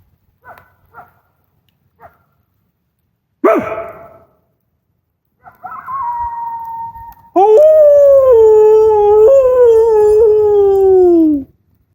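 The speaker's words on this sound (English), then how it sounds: "You hear the coyotes?" Coyotes call at night in Iowa's Loess Hills: a few short distant barks, then a sharp yelp, followed by long rising and falling howls that grow loud and sustained toward the end.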